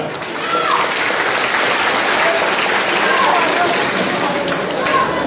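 Loud, sustained applause from a crowd at a Turkish Caferi foundation gathering, dense clapping that swells in quickly and continues evenly with a faint murmur of voices beneath.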